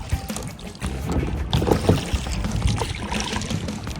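A small rowboat is rowed toward the beach from an anchored sailboat in Agua Verde, Mexico. Steady splashing and oar strokes through water mix with wind noise in a continuous close wash.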